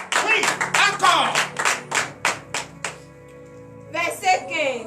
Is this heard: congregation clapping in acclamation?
yes